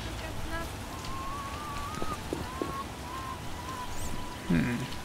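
In The Witcher, heavy rain patters steadily on surfaces as a continuous wash of noise, with brief tonal game sounds and a faint bird-like call drifting through.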